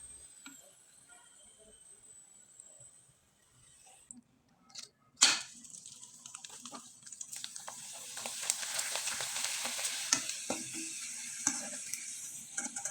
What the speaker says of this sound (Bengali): এবার আমি কয়েকটা চিপস আপনাদের ভেজে দেখিয়ে দিচ্ছি